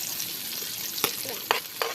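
Garlic and onion sauté in a hot pan, giving a steady close sizzle with a few sharp spatula scrapes and stirs.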